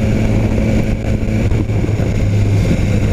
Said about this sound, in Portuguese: esse é o escapamento mais gostoso original que eu já andei